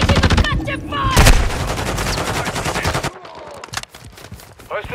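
Rapid bursts of automatic gunfire in Call of Duty Modern Warfare II, loud and close, a dense volley of shots with sharp cracks before cutting to quieter scattered sounds.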